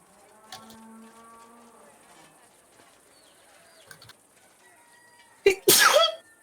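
A single loud, sharp sneeze bursts out near the end, close and abrupt, after quieter background sounds and faint voices at a tabletop roleplaying game session.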